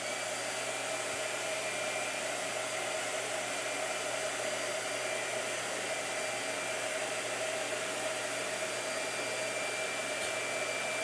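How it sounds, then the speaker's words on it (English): A blow dryer runs steadily at close range, a continuous even whir with a faint whine that holds at one level throughout, with no voices over it. "Blow dryer."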